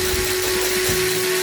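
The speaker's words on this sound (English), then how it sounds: "use the electric whisk. Whisk it all until it is frothy and add in cream of tartar." Electric whisk beating egg whites with cream of tartar into meringue, a loud steady close whine with a constant motor hum throughout, no talking.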